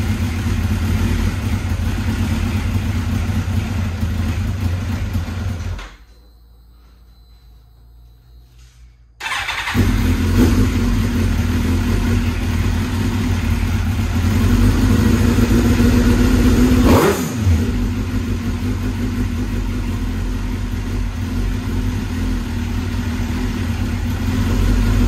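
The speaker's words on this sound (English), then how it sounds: "It started just like that. This bike's been sitting for 8 years." A 2005 Suzuki GSXR1000 motorcycle that had sat unused for eight years runs with a loud, steady idle, cuts out for a few seconds, then fires up again and keeps running roughly, with a brief rev swell partway through.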